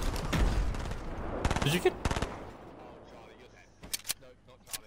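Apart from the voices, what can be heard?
gunfire in the video game Fortnite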